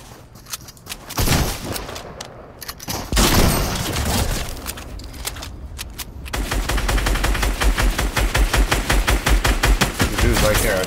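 Video game gunfire: scattered shots and short bursts give way to a long, rapid automatic volley with evenly spaced, loud reports, with no talking.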